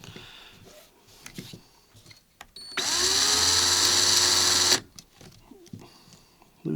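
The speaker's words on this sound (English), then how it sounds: "we want to make sure our drill's going the right way" A power drill whirs at high speed for about two seconds between quiet handling noises while winding vape coils on a jig, close and loud against the sparse background.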